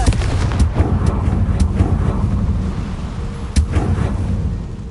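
A Confringo fire spell in Hogwarts Legacy bursts into a loud, dense blast of rumbling, crackling explosions with several sharp impacts over a few seconds.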